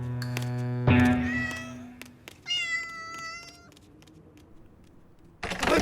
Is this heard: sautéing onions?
no